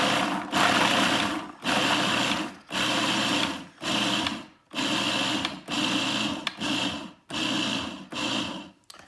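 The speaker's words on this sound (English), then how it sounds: "I'm going to go ahead and just start pulsing to grind these up." Food processor grinding a batch of cranberries in short pulses: about eight loud, evenly spaced motor bursts, each about a second long, separated by brief pauses.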